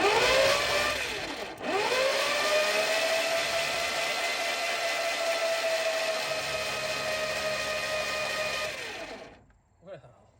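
A 1950 Dodge engine, long seized and just freed, cranks over on its starter with a loud, steady whirring drone. It stops briefly near the start, then runs for about eight seconds before cutting off.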